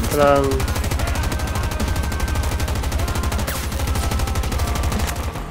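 Sustained rapid turret fire in Battlefield 2042, a loud continuous stream of closely spaced shots running for several seconds, with brief pitched tones at the start.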